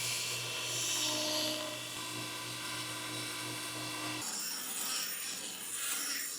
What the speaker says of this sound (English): I'm going to keep it as clean as possible and just grind the shape out